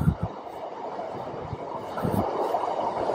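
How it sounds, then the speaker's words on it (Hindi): A metro train rumbles along an elevated line above a Shanghai side street, a steady rolling roar at middle distance with faint wheel clacks and no talking. "ये मेट्रो आई देखो यहाँ से।"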